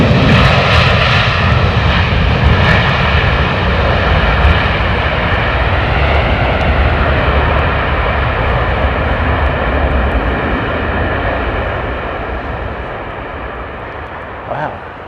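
Pratt & Whitney powered airliner jet engines roar loud and steady at Heathrow in heavy snow, a continuous broadband rumble that slowly fades over the final seconds, with voices talking over it.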